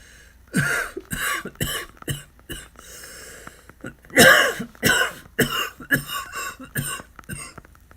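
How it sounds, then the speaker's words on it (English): A man coughs repeatedly in irregular harsh bursts, some grouped in quick fits with short pauses between, close and clear in a quiet room. "How long have you had that cough?"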